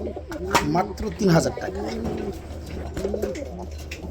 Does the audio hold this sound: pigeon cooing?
yes